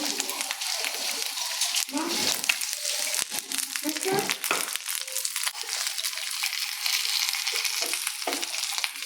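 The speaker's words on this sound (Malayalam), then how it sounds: "ഒരു പാനിൽ നമ്മൾ ഇങ്ങോട്ട് മാറ്റി വെച്ച് അതിൽ 2 സ്പൂൺ നെയ്യ് ഒഴിച്ച് നമുക്ക് അണ്ടി, മുന്തിരി, തേങ്ങ എല്ലാം വറവിടണം" Cashews, raisins and coconut pieces frying in two spoons of ghee in a pan for a payasam, a dense close crackling sizzle with bursts of stirring, partly masked by loud talk.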